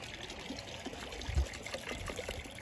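White vinegar trickles from a container into a tub of salt water brine prepared for soaking a deer hide, a faint, steady pour with low background noise.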